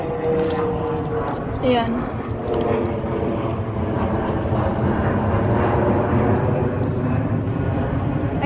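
An airplane flies overhead outdoors, heard as a continuous broad engine drone and rumble mixed with wind noise, while a person speaks over it.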